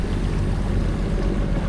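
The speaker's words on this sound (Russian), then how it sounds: "Вода бурлит." A sailing yacht crossing the Alboran Sea in the Mediterranean, with water churning and rushing steadily around the hull in a continuous broad wash, mixed with wind noise.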